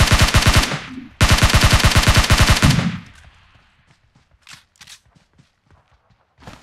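Two long, loud bursts of rapid automatic gunfire during gun testing in PUBG Mobile, separated by a short gap, then a few softer scattered thumps and clicks afterward.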